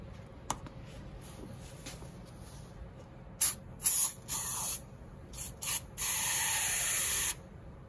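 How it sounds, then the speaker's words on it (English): Wheel tire cleaner sprays in several short hissing bursts and one long steady blast onto brass carburetor pieces from a BMW R80/7, close and loud over a quiet workshop background, with no talking. "So for now, I'm just gonna spray this, fill it up, let them soak"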